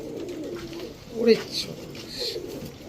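A Mayna Thuti pigeon coos once, a short low warble, against a busy background of faint chatter and ambient noise.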